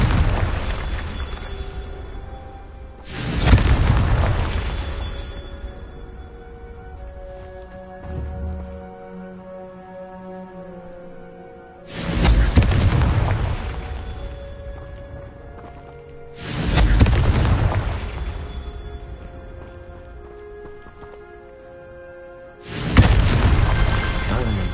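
Loud magical blasting-spell explosions from the Hogwarts Legacy video game boom out in four heavy bursts, each with a rumbling decay, over a musical game score with brief sounds in between.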